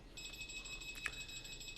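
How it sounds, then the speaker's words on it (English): An electronic alarm beeps in a fast, repeating high-pitched pattern, faint and somewhat distant, with a brief click or knock partway through. "that's my alarm going off"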